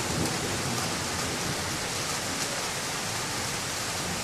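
Heavy rain pours steadily during a Canadian thunderstorm, a dense, continuous hiss that fills the whole clip at an even, fairly loud level with no voices.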